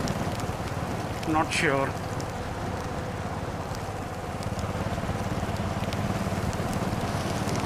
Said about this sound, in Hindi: So it started raining.